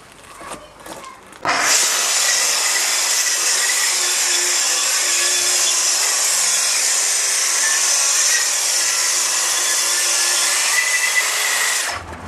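Power saw cutting through a 45 mm solid oak board for a workbench-style bathroom vanity top: a steady, loud, high whining cut lasting about ten seconds, then it abruptly stops, with no voices.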